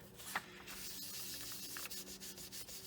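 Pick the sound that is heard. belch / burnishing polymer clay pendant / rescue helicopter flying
burnishing polymer clay pendant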